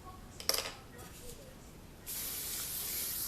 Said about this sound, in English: so I'm going to put a little hairspray over it